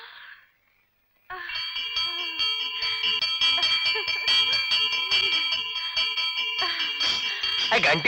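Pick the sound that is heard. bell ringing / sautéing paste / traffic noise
bell ringing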